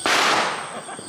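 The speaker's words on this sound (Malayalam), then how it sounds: "നമ്മുടെ പടക്കം പൊട്ടിക്കലും കാര്യങ്ങളൊക്കെ കഴിഞ്ഞു." A firecracker bursts at night during a Vishu celebration, a single sharp, loud crack with a long hissing, crackling tail that fades away, heard close with no talk.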